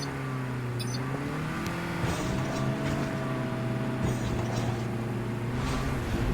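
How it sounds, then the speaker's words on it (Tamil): Steady vehicle engine drone from the Call of Duty Mobile game, a continuous hum with shifting tones and a constant loud level throughout, no voices. "Our vehicle is about to explode."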